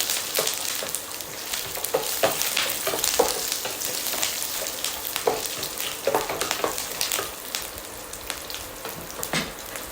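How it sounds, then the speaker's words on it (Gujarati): Oil sizzles and crackles loudly as curry leaves and green chillies fry for Gujarati poha, with sharp pops scattered throughout and no talking. "લીલા મરચાં અને લીમડાનો વઘાર છે"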